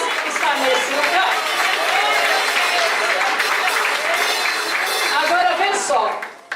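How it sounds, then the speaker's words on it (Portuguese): A church congregation applauds during an evening service, a dense, sustained clatter of many hands that stays loud throughout, with voices mixed in before it tails off at the end. "Aplauda esse Deus único nessa noite, e não poupe glória para o reino do céu"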